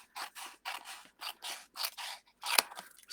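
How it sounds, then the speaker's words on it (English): Scissors snip through designer paper at the corners in about seven quick, evenly spaced rasping cuts, close and clear, ending with one sharp click. "So we're just cutting out the corners."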